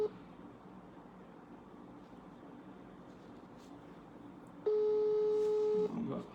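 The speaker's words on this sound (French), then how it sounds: "Ça sonne là." A single steady telephone ring tone during a phone call sounds loudly for about a second, following a stretch of quiet background hiss and murmur.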